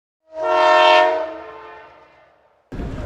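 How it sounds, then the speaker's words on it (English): A Paris metro train at an underground station gives a loud tonal horn-like whine that swells and slowly fades. After a brief gap, a burst of broadband rumbling rail noise starts. "The train just stopped."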